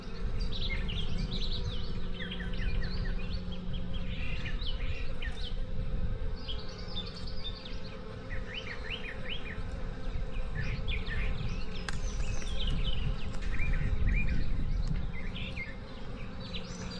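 Honey bees buzz in a constant close drone at an open hive during hive splitting, with faint bird chirps scattered above it.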